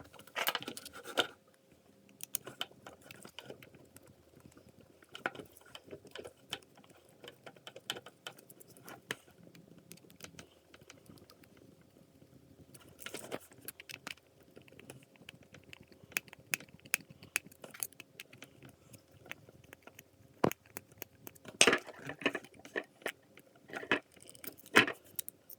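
Screws are undone on an electrical plug being rewired after it kept tripping a breaker, heard as faint, sparse metallic clicks, small rattles and handling taps in a quiet room.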